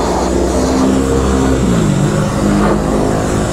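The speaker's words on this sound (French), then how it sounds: "Une KTM, une Corvette, ça faisait un beau petit bruit." A KTM 890 motorcycle and a Corvette pass close by, their engine notes rising then dropping in pitch as they go, over a constant loud rush of wind.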